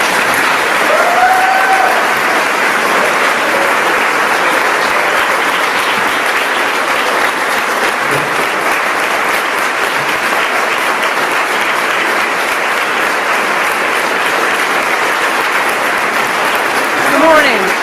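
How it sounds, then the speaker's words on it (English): Loud, sustained audience applause at the Equality Utah 2018 PAC brunch as Kate Kendall is welcomed to the stage; a thick, even wash of clapping from a large crowd that holds steady for nearly eighteen seconds, with a few faint voices underneath. "Please give a round of applause to Kate Kendall"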